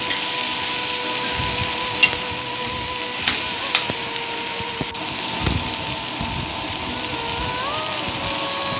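Tomato curry stirred and sizzling in a pan, a steady hiss of frying with scattered scraping clicks from the spoon, close and continuous.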